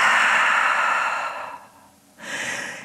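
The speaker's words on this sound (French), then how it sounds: "Ouvre la bouche, expire." Breath is pushed out through an open mouth during a yin yoga and pranayama session: a long, breathy exhale that fades out, then after a short pause a fresh airy breath begins, close and alone.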